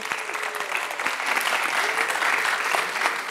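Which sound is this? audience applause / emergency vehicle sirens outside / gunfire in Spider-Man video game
audience applause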